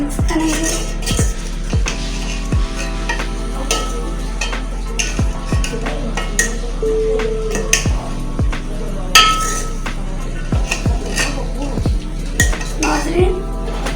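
Okra with tomatoes being stirred in a pan for masala bhindi, a run of sharp metal spoon clinks and scrapes against the pan over a steady low hum, with no talking.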